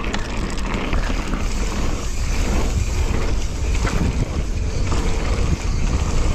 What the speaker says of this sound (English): Yeah, it's windy, so you gotta watch out.